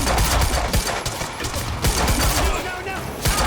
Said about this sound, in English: He's firing right at me.